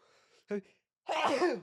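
A short sharp burst followed by a loud, breathy explosive sneeze, near and clear, with a faint voice just before it.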